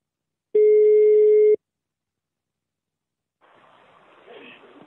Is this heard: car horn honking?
no